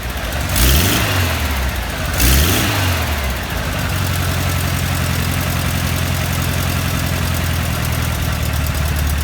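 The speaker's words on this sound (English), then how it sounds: "I'm curious on how well the motor runs on higher RPMs" An air-cooled VW engine on a test stand, running off the car's tank before break-in, revs up loudly twice in quick blips, then settles into a steady, rough, high-RPM drone close to the microphone.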